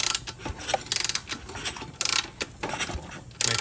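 A Chinese dirt bike engine is cranked over by hand to pump out its oil, giving a run of quick mechanical clicking and ratcheting bursts that stop and start, close by with no talking.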